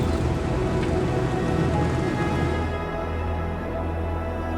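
Steady rain falls at Latefossen waterfall in Norway, a dense broadband wash of water noise mixed with a low rumble, constant and close, with no voices.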